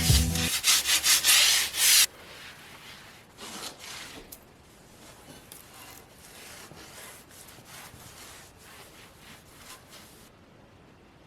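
A cheap brush scrubs tile grout joints in rapid back-and-forth strokes. The scrubbing is loud and harsh at first, then continues as quieter rhythmic rubbing until it stops near the end.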